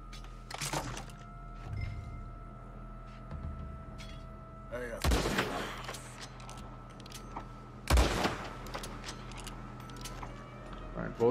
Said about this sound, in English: So I think I'll just take the shot from the tower.